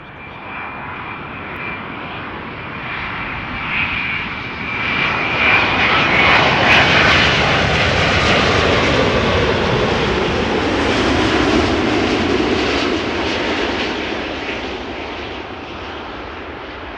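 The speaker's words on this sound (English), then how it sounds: "this was an Air Europa Boeing 7878 Dreamliner inbound from Madrid" An Air Europa Boeing 787 Dreamliner arriving at Amsterdam Schiphol roars past, its broad jet rumble swelling to a peak and slowly fading over many seconds, heard alone without voices.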